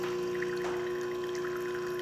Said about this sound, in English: clear water is running through the group head, trickling down your portafilter, which is caused by a leaking gasket